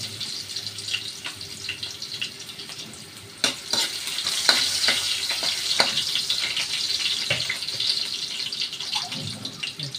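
Ginger frying in a pan, then joined by garlic and onion, with a steady sizzle, a few sharp stirring clatters near the middle and a brief running-tap splash toward the end.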